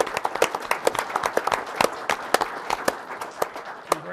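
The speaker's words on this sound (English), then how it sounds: "One more round of applause for all of them." Scattered applause at a city council meeting, with distinct individual claps standing out sharply from a thinner background of clapping, moderately loud and irregular in rhythm.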